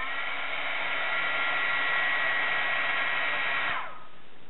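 A craft heat tool reheats embossing powder on a brad, a steady close blowing whoosh and hum that winds down and stops near the end, without talking.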